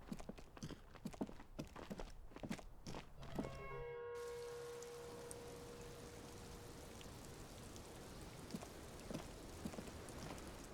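Rain falls in the video game Disco Elysium as a steady, soft hiss that settles in after a few light clatters and a brief ringing chime.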